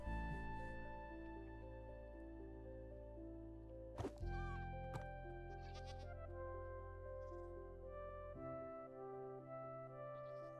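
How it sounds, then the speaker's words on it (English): Faint goat bleats in the Minecraft video game, heard low under steady background music along with a couple of soft thunks from in-game actions. "I'm trying to use Lizzie's goat to get a screaming goat, because then I want a screaming goat horn"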